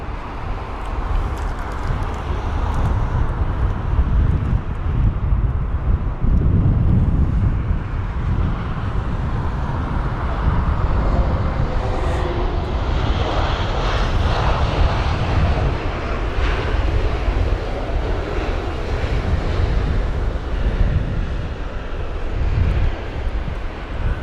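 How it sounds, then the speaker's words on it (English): A Lufthansa Airbus A320neo arriving from Munich lands at London Heathrow on a windy day, a loud, steady jet engine roar close by with gusty wind buffeting the microphone throughout. "It's going to be a Lufthansa jet and A320neo"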